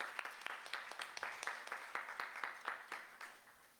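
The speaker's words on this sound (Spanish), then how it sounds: "Un aplauso, por favor." Conference audience applauding, a dense patter of many hands clapping at moderate distance that slowly fades over a few seconds, fairly quiet.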